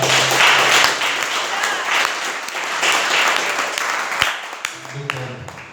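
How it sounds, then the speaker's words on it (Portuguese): A church congregation applauds loudly during a service, a broad roar of clapping with some voices mixed in, fading gradually toward the end, where a few scattered claps remain. "Aplauda os céus bem forte."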